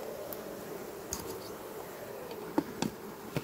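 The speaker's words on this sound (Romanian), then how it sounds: "Albinuții sunt acolo." Honey bees shut in a varroa test jar give a faint, steady buzzing hum, close by, with a few soft taps and knocks and no talk.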